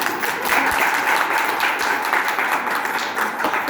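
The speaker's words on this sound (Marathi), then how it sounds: "टाळ्या वाजवा जरा" A live audience bursts into sustained applause at a one-act stage performance, the clapping dense and continuous throughout, with a faint voice underneath.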